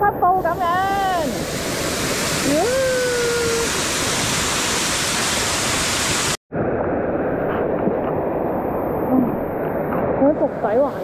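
A waterfall roars in a rocky mountain stream gorge in Hong Kong's Wa Mei stream, a loud, constant rush of water. Voices call out over it, and the sound cuts off briefly before returning slightly muffled.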